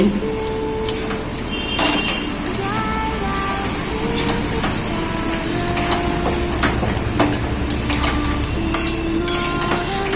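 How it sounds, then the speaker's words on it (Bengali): Mutton rezala gets stirred in a cooking pot, with a continuous scraping and shuffling of a spoon through the thick mixture over a steady sizzle and some higher metallic squeaks and clinks, loud and close throughout. "নেড়ে চেড়ে নিচ্ছি। সবকিছুর সাথে ভালো করে মিশিয়ে নিচ্ছি।"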